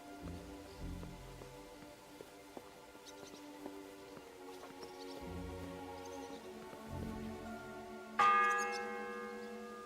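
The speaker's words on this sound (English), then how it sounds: "It's the 8th bell. I need to hurry." A church bell in Kingdom Come: Deliverance II strikes once, loud and ringing with a long fading hum, late in the stretch, after soft patter of rain and faint clinks in a quiet game scene.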